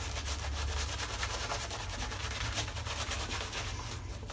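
A shaving brush scrubs lather over skin with a steady, close, soft bristly rubbing that continues without pause, no voices present.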